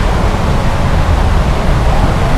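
Heavy rain pours steadily at a motorcycle campsite, a loud, unbroken wash of noise with no pauses.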